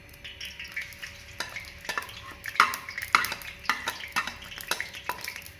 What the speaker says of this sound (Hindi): ये लहसुन डाल देता हूँ।